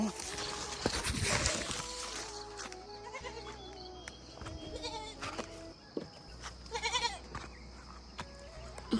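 Goats bleat several times on a rural homestead, nearby and clear, mixed with people talking and some footsteps.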